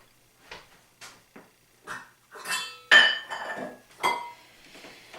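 Someone handles a vegetable portion measuring cup, producing a series of light clinks and knocks, close and fairly quiet, irregular over several seconds.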